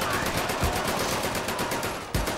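Rapid gunfire in the VR shooter Medal of Honor: Above and Beyond, a dense run of repeated shots with two heavier thumps, close and steady, with no talk.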